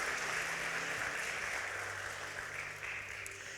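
Church congregation applauding during a Sunday sermon, a steady wash of clapping from many hands that fills the room, moderately distant and continuous throughout.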